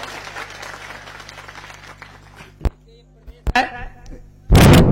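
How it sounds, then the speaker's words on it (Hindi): An audience claps loudly in a brief burst at the end, after a stretch of someone speaking in Hindi at a public talk. "ताली बजाइए"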